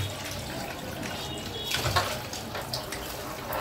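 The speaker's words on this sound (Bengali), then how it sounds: "ভালো করে ধুয়ে নিই।" Tap water runs steadily while bata fish are rinsed in a home kitchen, a soft continuous splashing flow with a slightly louder splash near the middle, heard alone at modest level.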